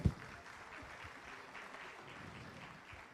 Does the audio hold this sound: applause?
yes